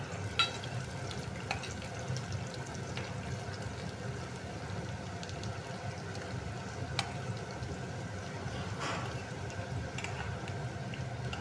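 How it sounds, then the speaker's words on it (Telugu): Onions and tempering spices frying in oil for green chilli pachadi, a continuous dense sizzle with occasional crackles and pops, close and steady with no talking. "ఆయిల్లో ఈ విధంగా సరిపడా ఆయిల్లో ఫ్రై చేసుకోవాలన్నమాట"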